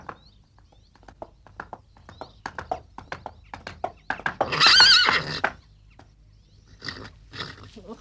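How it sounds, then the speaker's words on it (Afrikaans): A yellow horse whinnies loudly and close by, with hooves clip-clopping in a steady rhythm before and after, the sharp neigh rising in the middle. "Maar dis hy Brak en Jan se geel perd."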